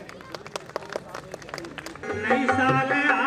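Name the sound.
audience applause welcoming a guest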